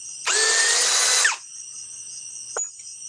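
Ryobi power drill driving a small fastener: one loud, steady whir of about a second that drops off as the bit stops, followed by a short knock, all over a constant faint background hum.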